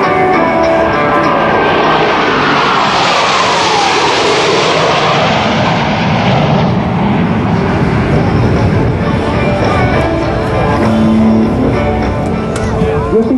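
US Navy Blue Angels F/A-18 Hornet jet roars past at an airshow, a loud sustained rushing whoosh that swells and sweeps down in pitch as it passes, while an announcer talks over the PA.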